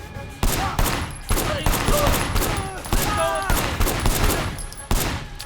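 Gunfire from the Sleeping Dogs video game, with repeated loud bursts of shots every half second or so over a dense bed of game noise and ringing tones, no voices.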